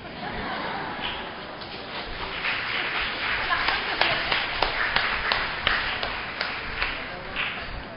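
A congregation applauds during a Christmas church service, a sustained wash of many hands clapping, with a few sharper claps standing out. Voices and some laughter mix in under the applause.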